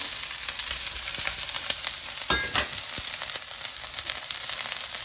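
A vegetable egg foo yung mixture fries in a hot pan with a steady, bright sizzle and a brief clatter of the utensil partway through. No one talks.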